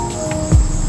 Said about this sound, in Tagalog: Dito kuliglig ang maririnig mo.